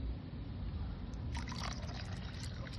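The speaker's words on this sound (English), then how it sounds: "We're gonna be pouring on the vinegar." Vinegar poured into a pot of water holding goat meat outdoors, a low steady rush with a brighter splashing trickle joining partway through, close and continuous without talk.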